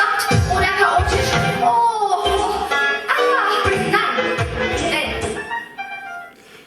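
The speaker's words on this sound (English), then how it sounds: "this leads to pieces where I combined fragments of already existing pieces of music with live musicians" Collaged fragments of existing recorded music are played against live musicians, with choppy, layered bursts of pitched tones and percussive hits shifting every second or so across several seconds.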